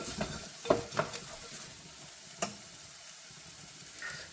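Green peas frying with salt in a pan for South Indian upma, a faint, low hiss broken by a few soft scraping stirs and light clinks of the spatula.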